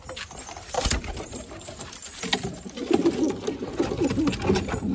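Punjabi pigeons softly cooing and shuffling nearby, low murmuring coos with light pattering and fluttering, fairly faint and irregular, no voices.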